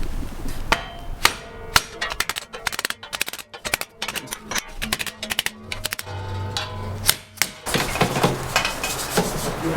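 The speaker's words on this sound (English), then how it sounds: "I think I can tap it down in there." A hammer taps a metal exterior trim piece for a truck camper held in a vise, giving a quick run of sharp, loud, irregular strikes close by, with no talking.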